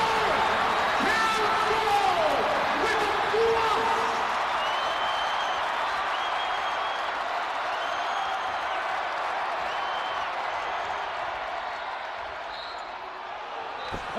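Basketball arena crowd at Arkansas roaring and cheering after a highlight dunk, a sustained dense wall of noise that slowly fades, with a commentator talking over it.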